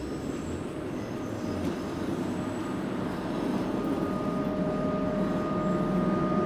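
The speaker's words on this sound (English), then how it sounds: "there's a number of subway trains going by to and from Davisville Station" Toronto subway trains rumble past near Davisville Station, a continuous low roar that swells gradually with a faint steady whine, heard from nearby with no talking.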